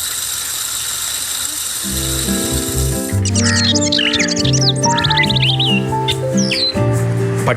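Bird calls played for visitors at the Hekki Banakk bird festival in Wayanad: low, steady hooting tones, then from midway a loud, close burst of bright chirps, trills and whistles layered together.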